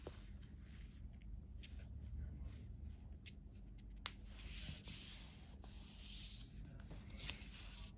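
A sheet of A4 paper folded lengthwise for a homemade spinner, heard as soft, continuous rustling and rubbing with occasional faint creases and taps, very quiet and close.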